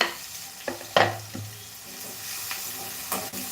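Hot oil sizzling in a pan while a mixed legume curry cooks, a steady close frying hiss with a few sharp spatters and stirring knocks.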